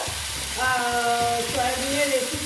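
Tomatoes fry in a pan for a vegetarian soya chunk dish, a steady close sizzle with some stirring while a voice briefly speaks over it.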